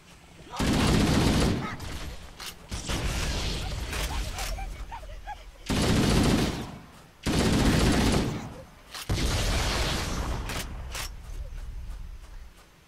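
Sustained bursts of gunfire in Halo: Combat Evolved Anniversary, several loud automatic volleys separated by short pauses, with some quieter in-game activity between bursts.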